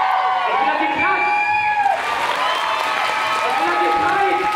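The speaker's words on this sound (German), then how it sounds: "Ich will, dass ihr klatscht." A large audience at a live event applauds steadily, with dense clapping mixed with cheers and scattered shouts, loud and sustained from start to finish.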